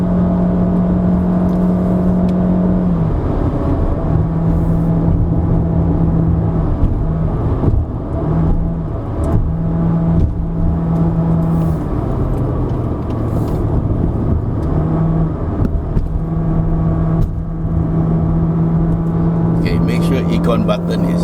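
A 2021 Honda City RS climbs a mountain road on the way up Genting Highlands while overtaking a truck, its engine droning steadily from inside the cabin with shifting pitch, under almost continuous talk.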